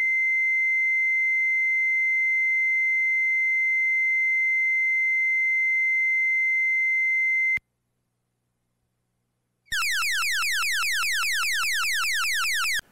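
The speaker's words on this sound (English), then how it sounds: "Now here's the Station 2 squad tone." A fire department Station 2 squad alert tone: a steady, loud single pitch holds for about seven and a half seconds, then after a brief silence a rapid series of warbling, repeating chirps fills the rest, with no voices.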